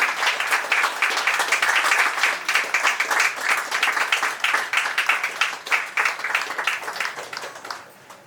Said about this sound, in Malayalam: ഒരു നിറഞ്ഞ കയ്യടിയോടുകൂടി തന്നെ നമുക്ക് ഈ പുസ്തകം പ്രകാശനം ചെയ്യാവുന്നതാണ്